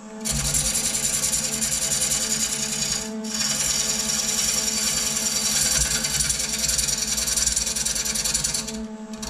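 A wood lathe spins a turned nutcracker piece, a steady loud whirring rasp with a rubbing, grinding texture that runs continuously, briefly dipping near the start and end.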